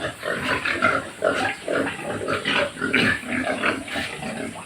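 Pigs in a backyard pen grunt and snort repeatedly in close, rhythmic bursts, loud and near with no talk over them.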